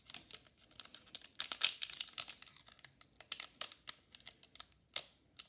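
Someone struggles to tear open a plastic pack of hockey cards with a run of sharp crinkles and rips, close and uneven, in short bursts with brief pauses.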